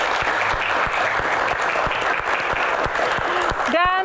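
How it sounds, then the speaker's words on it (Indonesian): Audience applause for a guest at an Islamic Q&A talk event, a steady dense clapping from a crowd that fills the hall and then breaks off abruptly, followed by a brief tonal sound at the end. "Dan kita berikan tepuk tangan untuk Ustadz Dery yang hadir di sini."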